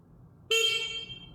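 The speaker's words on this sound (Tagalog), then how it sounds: "Lakas din ng busina." A Suzuki V-Strom 160 motorcycle horn sounds one loud, close honk: a bright, steady tone that starts abruptly, holds for just under a second and then trails off.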